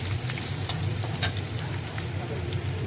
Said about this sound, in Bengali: দিলাম শুকনো লঙ্কা দিলাম তেলে তেজপাতা দিলাম তাহলে এটাকে একটু ভাজবো